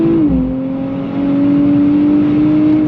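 A 2024 Nissan Z NISMO accelerating hard on throttle, its engine note droning loud and close as revs climb steadily through a short pull.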